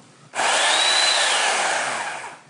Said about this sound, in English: if I have my buddies, revving up chainsaws, I'm superimposing noise on my